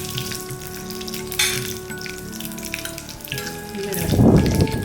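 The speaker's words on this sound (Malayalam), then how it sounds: "കടുക് പൊട്ടിക്കഴിയുമ്പോൾ ഒരു 3 മുതൽ 4 വരെ വറ്റൽമുളക്, കുറച്ച് കരിവേപ്പിലയും ചേർത്ത്" Mustard seeds, dried red chillies and curry leaves frying in hot oil, a steady close crackling sizzle with popping bursts that swells louder near the end, alone without talk.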